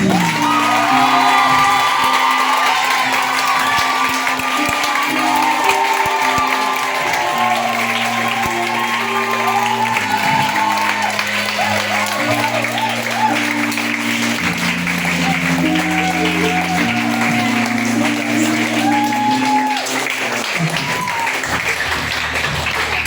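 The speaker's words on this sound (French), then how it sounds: "Tu vas honorer encore ce papa-là avec de plus grandes acclamations." A church gathering's crowd claps and cheers in a long, steady burst, with whoops and shouts rising over continuous applause, while a voice speaks or sings along over a sustained musical tone throughout.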